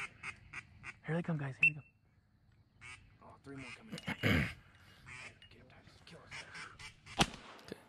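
Ducks, including teal, quack in bursts as they fly in over flooded corn during a duck hunt, heard close amid hunters' quiet talk.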